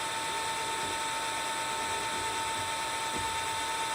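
A drill bit bores into a metal workpiece at a center-punched mark, giving a steady, loud mechanical whine and grinding hum that runs unbroken throughout.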